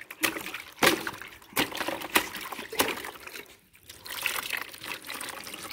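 Water splashes and trickles as a small child bathes, with uneven sloshes and pours in a near, moderately quiet room.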